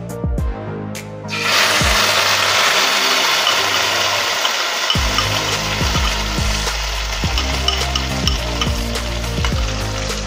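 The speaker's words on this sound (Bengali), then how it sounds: "এই পেস্টটাকে এবার আমি কড়াইতে দিয়ে দেব।" Coriander, garlic and green chilli paste hits a hot kadai with a sudden loud sizzle, then keeps frying steadily with periodic scraping stirs, close and continuous.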